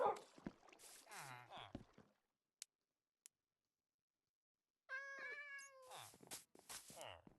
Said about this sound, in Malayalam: നമുക്കിവിടെ ഒരു കളർഫുൾ പൂച്ചയുണ്ട്.